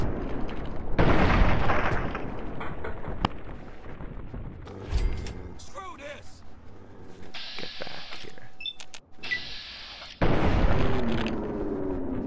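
Grenade explosions and gunfire in the Fallout 3 game, several loud booms spread across the stretch with bursts and crackling effects between them, no voices.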